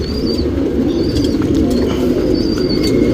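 A male Dhumal pigeon coos close by in a steady, continuous low rolling drone, with faint chirps from other birds above it.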